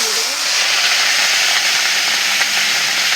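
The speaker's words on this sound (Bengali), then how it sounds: "কচু চিংড়ির জন্য যে চিংড়ি মাছটা নিয়েছি সেটাকে ভালো করে ভেজে নেব।" Prawns fry in hot oil in a pan for a Bengali kochu chingri dish, a loud continuous sizzle and hiss held steady close up throughout, with a voice talking over it.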